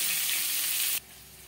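Beaten eggs with salt and turmeric frying in a pan for egg curry give a steady bright sizzle for about a second, then drop abruptly to a quiet low hiss.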